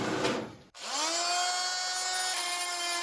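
A power tool trimming wood pieces off a table saw crosscut sled, a loud high whine that cuts briefly, then spins back up into a steady sustained tone, close by with no speech.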